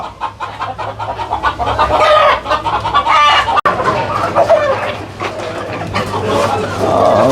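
Many free-range country chickens clucking at once, a loud, busy flock with overlapping calls throughout, and a few voices mixed into the noise.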